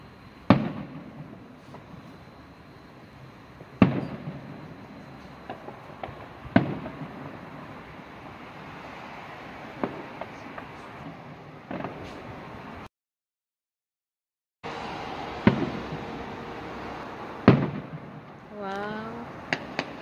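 Distant Canada Day fireworks pop and boom at irregular intervals over a soft background hum, with a few sharper cracks and a whistling rocket near the end.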